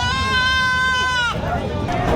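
A goat at a cattle, goat, carabao and horse market in Padre Garcia bleats once in a long, wavering cry over a steady crowd murmur and nearby talk.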